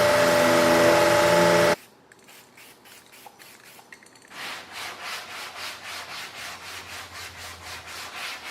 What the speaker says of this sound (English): So our epoxy is going to stick. We have to make sure we scuff behind here.